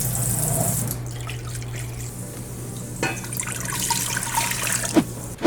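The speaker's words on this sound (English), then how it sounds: "All right, so into a pot. We need 6 cups of water." Water from a tap runs and splashes into a cooking pot being filled with six cups, a steady close trickle with shifting splashes and a few clunks toward the end.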